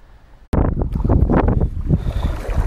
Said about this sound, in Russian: Ребят, ветер очень большой,